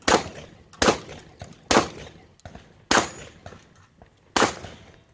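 Gunshots ring out on a 3-gun shooting stage, five loud, sharp reports spaced about a second apart, each with a short echoing decay and nothing else in between.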